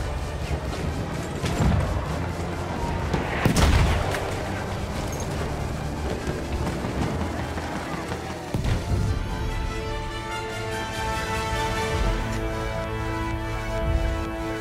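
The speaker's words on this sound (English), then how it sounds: "That's a mortar." Mortar shells landing across no man's land in the World War I shooter game Battlefield 1, several heavy booming blasts over a constant rumbling battle din, with no voices.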